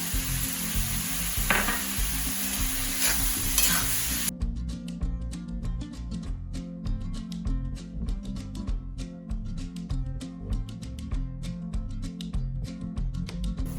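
Onions frying with salt in a pan for an Andhra-style egg curry, giving a steady, close sizzle with dense crackling and occasional stirring scrapes, no voices.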